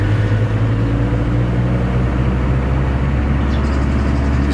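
A car drives steadily along a test stretch after a DIY front-wheel toe alignment, giving a continuous low engine and road rumble from inside the cabin with no speech.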